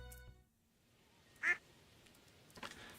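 Ducks on a Stardew Valley video game farm give a single clear quack, then a softer second call a moment later, with near silence between.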